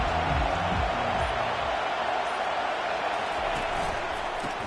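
Stadium crowd noise at an Oregon versus Ohio State college football game, a continuous broad roar filling the space with a commentator's voice talking over it.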